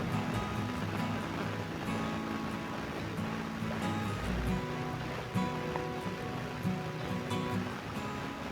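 Underwater ocean ambience in Minecraft, a steady muffled wash of water with faint bubbling and soft tonal game sounds underneath, continuous throughout with no talking.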